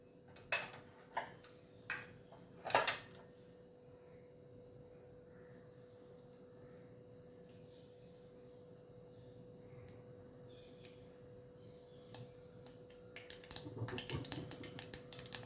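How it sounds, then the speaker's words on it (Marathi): Mustard seeds hit hot oil in a pan while kadhi is being made: a few sharp, isolated pops come first, then a quiet stretch, and finally a quick burst of dense crackling spluttering near the end. "तेल आपलं तापलं आहे, आपण मोहरी घालू."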